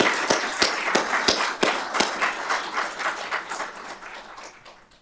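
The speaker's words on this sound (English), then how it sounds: "give them a round of applause" An audience at a fire and rescue awards ceremony applauds the firefighters, with sharp, loud individual claps standing out over a sustained wash of clapping that gradually fades.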